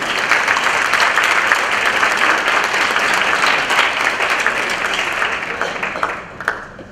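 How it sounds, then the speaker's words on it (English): An audience at a teacher recognition ceremony gives sustained applause, a full wash of clapping that fades out near the end. "Please give them a round of applause."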